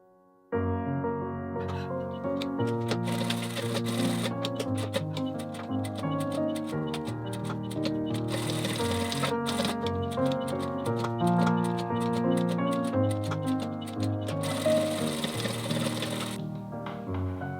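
A sewing machine stitching around the edge of a fabric toy banana runs in a rapid, even ticking clatter that starts abruptly and continues close and steady, with brief slowdowns before ending.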